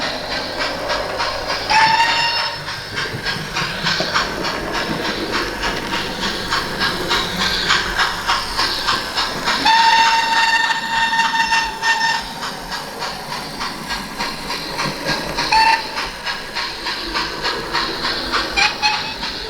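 Three short, high-pitched whistles from the sound chip of a Hornby 'King Edward V' model steam locomotive sound one at a time over a steady rhythmic chuffing.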